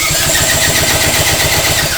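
A 35 HP outboard motor cranks over during a compression test on its top cylinder, producing a loud, fast, rhythmic chugging that holds steady throughout.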